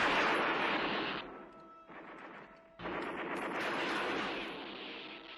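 Loud bursts of gunfire from the film Rambo: First Blood, rapid and sustained, dipping briefly before resuming with a dense, crackling barrage.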